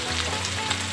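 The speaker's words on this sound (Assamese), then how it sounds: "এইখিনি মই ভালদৰে ভাজি লওঁ" Sliced onion, ginger and garlic sizzle in a hot wok with bay leaf, a steady close crackling fry that is loud, continuous and free of talk.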